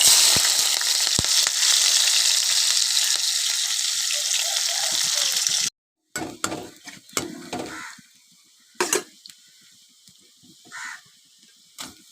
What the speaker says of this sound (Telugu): ఇప్పుడు ఆనియన్స్ని ఆయిల్లో వేయాలి